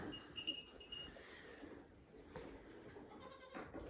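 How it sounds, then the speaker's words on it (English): A goat bleats inside a farm barn, several bleats repeating close by amid rustling and low background noise. "There's a goat."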